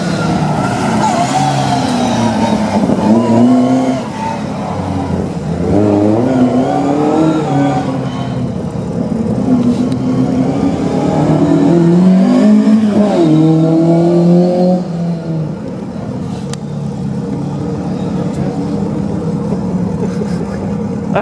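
A Ford Escort Evo engine revs hard at a classic car show in Manchester, climbing and falling in repeated loud surges, with crowd noise and voices around it.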